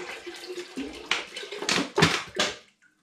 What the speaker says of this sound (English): I'm going to begin by adding my spring water into my big pan